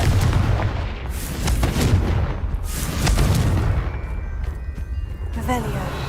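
Confringo fire spell explosions in the Hogwarts Legacy video game, several heavy booming blasts in quick succession over a rumbling battle backdrop, with a brief chiming effect near the end.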